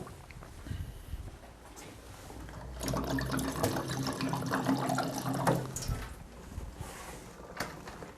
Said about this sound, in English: I'm going to give that a touch more water.